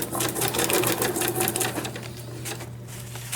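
Sewing machine stitching through book pages, a loud, close, fast rapid-fire mechanical chatter that runs throughout and eases slightly near the end.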